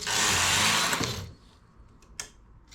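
Knitting machine carriage sliding and clattering as needles held in suspension are brought back down, a loud broadband mechanical rush for over a second that cuts off, followed by a few faint clicks.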